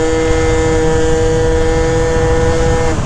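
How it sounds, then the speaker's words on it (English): A Yamaha Zuma 70cc scooter with a Stage 6 Minarelli engine holds a steady, loud, high-pitched rev with a strong whining tone that stays level, then dips slightly at the end, with no voices over it. "Seems like it's revving a lot more though now."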